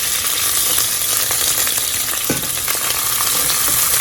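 Chopped onion fries and sizzles in a very hot pan as it is stirred, a steady, loud, dense crackle with a few scraping stirs of the utensil against the pan.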